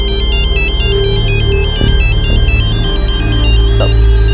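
A mobile phone ringtone plays continuously in a tense police-station setting, a bright repeating electronic melody ringing steadily and loudly for several seconds with no talk over it.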